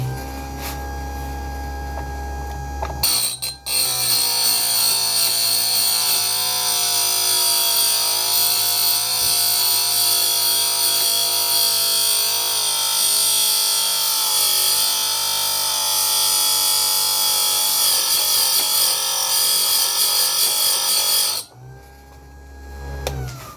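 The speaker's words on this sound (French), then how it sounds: "la meule se ralentit pour éviter que la mèche chauffe quand on va la meuler" A slowed-down bench grinding wheel sharpens a steel drill bit, making a steady, loud, continuous grinding whine for about eighteen seconds before stopping, with quieter motor hum at either end.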